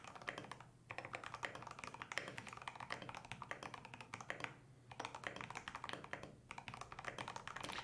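Dense, steady typing on a large mechanical keyboard fitted with Holy Panda switches, with rapid key clacks and heavy space bar bottom-outs sounding close and continuous across the whole stretch, broken only by two short pauses.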